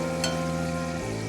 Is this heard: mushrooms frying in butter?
yes